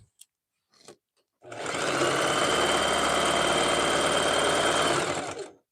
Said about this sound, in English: So I'll just wind a bunch of bobbins from it.